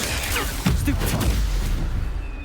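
A Stupefy spell cast in the video game Hogwarts Legacy, heard as a sharp, booming magical burst midway through a dense, steady wash of game noise.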